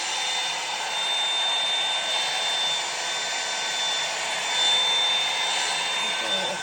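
A hot blow-dry brush runs steadily while hair is dried, producing a constant loud airy whoosh with a thin high motor whine that holds unbroken throughout.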